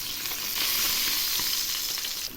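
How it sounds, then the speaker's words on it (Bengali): Bata fish frying in hot oil gives a steady, dense sizzle that fills the whole stretch without a break, loud and close, with faint stirring sounds and no voices. "এভাবেই আমি সবগুলো ভেজে নেব।"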